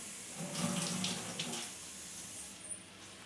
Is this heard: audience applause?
no